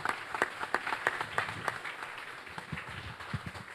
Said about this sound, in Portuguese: Vamos aplaudir o nome do nosso Senhor Jesus Cristo nessa manhã?